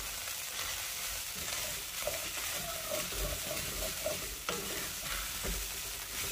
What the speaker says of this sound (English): Now I'm going to add my minced garlic and that dried bay leaf. And I'm just going to continue the saute